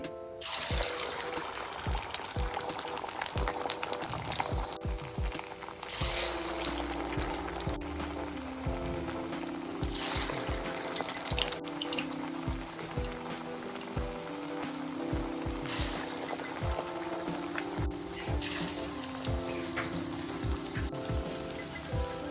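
Poha vadas fry in hot oil in a kadai, a steady crackling sizzle with scattered pops that runs throughout beneath continuous background music.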